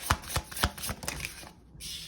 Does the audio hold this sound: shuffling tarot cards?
yes